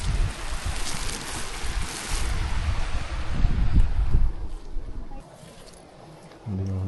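Gusty outdoor wind buffeting the microphone during a spinach and parsley harvest, with roaring low rumble that swells, then drops to a quieter stretch near the end.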